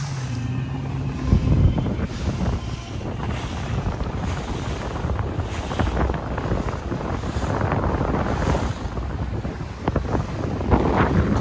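A boat cruising on open water near Haulover Inlet in Miami, with steady engine and water rush under constant wind buffeting the microphone, loud and continuous throughout.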